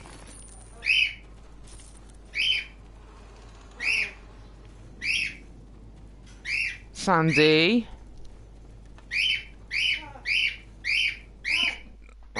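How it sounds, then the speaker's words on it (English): Seagulls cry repeatedly at regular intervals, sharp squawks standing out over a quiet background, while someone speaks briefly between the calls. "Sandy, don't start. Leave the seagulls alone."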